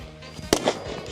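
A shotgun fires once during a driven duck shoot on a track between two lakes in the Czech Republic, giving a single sharp report that fades quickly over quiet outdoor background.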